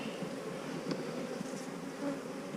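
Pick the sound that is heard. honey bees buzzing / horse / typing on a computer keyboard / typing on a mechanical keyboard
honey bees buzzing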